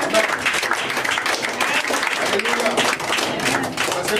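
A church congregation applauds and acclaims the Lord, a fairly close wash of clapping and cheering voices that swells and surges unevenly throughout the moment.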